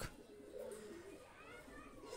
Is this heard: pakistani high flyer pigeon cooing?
yes